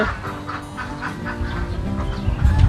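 Ducks on an egg-laying duck farm, a flock honking and quacking together in a steady, dense chorus that swells louder toward the end.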